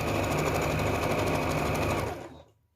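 A sewing machine stitches a double binding along a quilt edge with a quarter-inch seam, giving a fast, loud, steady whir that halts sharply just before the end.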